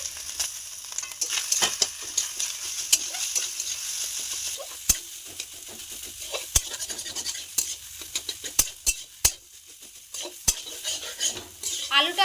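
Grated coconut and mashed boiled potato frying in hot oil for a potol chop filling, a soft sizzle under repeated scraping and stirring with a metal spatula, with sharp clinks against the pan.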